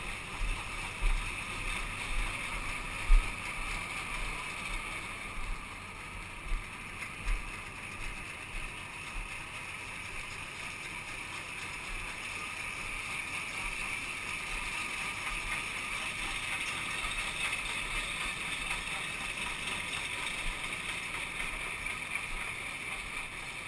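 A 2001 MacDon 36-foot header with a solid John Deere reel runs steadily on a combine, giving a continuous broad mechanical drone with faint intermittent knocks early on, with no talking.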